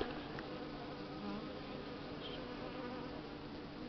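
Buckfast honey bees and robber bees fly around a hive entrance, giving a faint, steady buzzing drone with no voices.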